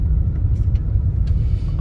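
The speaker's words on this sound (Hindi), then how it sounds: "इस्लामाबाद एंटर हो चुके हैं और ये देखें ट्रैफिक ब्लॉक है" Road traffic stuck in a jam in Islamabad, heard as a steady low engine rumble close by, with no other sounds standing out.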